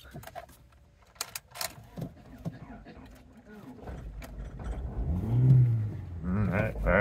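A Honda car with a weak charging system is jump-started from a jump pack: clicks and rattles, then the engine cranks and catches into a rising idle rev, with people talking nearby.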